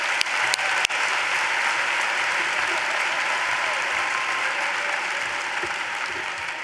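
A high school commencement audience breaks into sustained applause, a dense wash of clapping that holds steady throughout with a few sharp claps standing out near the start.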